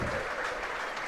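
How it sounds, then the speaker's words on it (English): Spectators applauding at an NCAA women's college tennis doubles final, a dense, steady patter of clapping from a crowd with no talk over it. "You can hear the clapping in the background"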